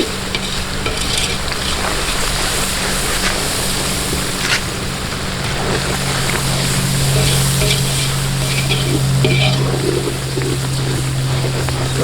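A seafood boil mix with lemon is stirred in a pot outdoors, a continuous scraping swish over a steady sizzling, burner-like roar that runs unbroken throughout.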